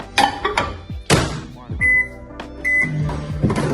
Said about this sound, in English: And I'm just gonna stick this in the microwave